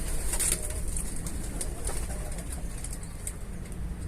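Pigeons cooing nearby over a busy outdoor murmur, with a few soft chirps and wing sounds mixed in.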